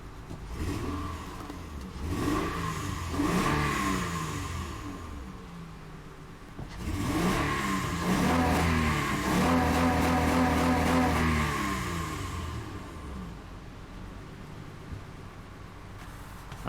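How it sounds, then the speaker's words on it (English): A 2003 Honda Odyssey 3.5L V6 with a misfiring cylinder cranks, starts and settles into a steady idle, a close, continuous engine hum with a brief swell of revving partway through. "now I'm going to go and start the engine"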